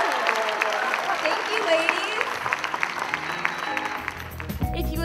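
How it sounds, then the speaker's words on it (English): An audience at a Miss Florida USA pageant event claps for the little sisters, a sustained round of applause from a modest crowd while someone speaks over it. "Let's give our little sisters another big round of applause."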